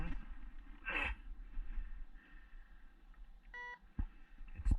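A metal detector gives faint electronic beeps briefly and intermittently over quiet outdoor rustling and handling noise, with a short tonal blip near the end.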